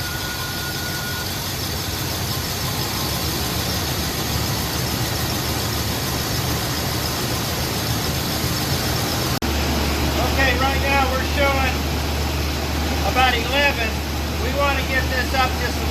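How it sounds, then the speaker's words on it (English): A 1977 Oldsmobile Cutlass engine idles steadily up close, a constant low hum whose tone shifts partway through as the idle screw is turned, with someone talking over it. "We'll turn the idle screw up and get it going a little bit, and then we'll get it to go up a little higher."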